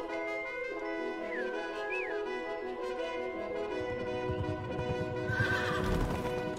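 A horse in the video game Pumpkin Jack neighs with a long, wavering whinny over a sustained musical backdrop, followed by louder snorting and hoof sounds near the end, with no talk.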